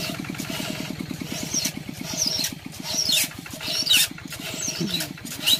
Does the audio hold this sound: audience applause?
no